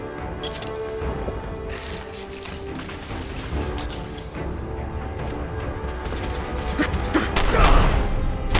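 Gunfire crackles in the video game Fallout 4 amid a mechanical clatter of ratcheting and clanking, with sharp bursts building toward a louder volley near the end.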